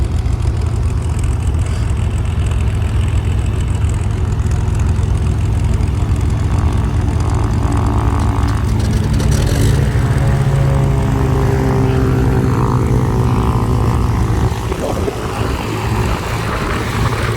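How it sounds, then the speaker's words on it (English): Propeller airplane engine running at an airfield, a loud steady drone with low rumble that holds throughout, with some changing tones and shifts as aircraft taxi and move nearby. "We have a plane coming in back here."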